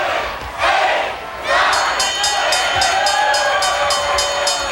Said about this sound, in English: The crowd is counting him out.